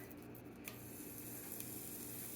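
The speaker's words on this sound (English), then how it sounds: "Oh yeah, there's some sizzle. Yes, I hear sizzling." Onion sizzling in hot oil: a steady, quiet crackling hiss with a couple of faint pops, and no voices.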